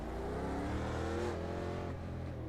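Race car accelerating in the iRacing video game in a 1987 NASCAR Legends race at Atlanta Motor Speedway, a continuous engine roar with rising pitch, fairly quiet and heard alone.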